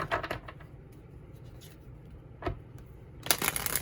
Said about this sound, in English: Let's give this one more shuffle